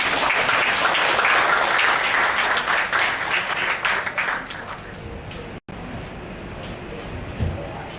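An audience claps after a cultural lecture in a hall, loud and dense at first, then thinning into a lighter scatter of claps and room noise toward the end.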